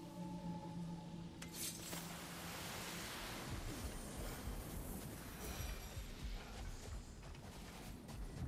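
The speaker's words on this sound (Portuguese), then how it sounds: "Essas ondas..." Ocean waves in God of War Ragnarök, a faint, continuous surf wash that swells broadly under a soft tonal hum at the start, with no speech.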